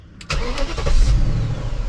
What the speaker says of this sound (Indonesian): Suara V8 itu emang merdu banget ya teman-teman.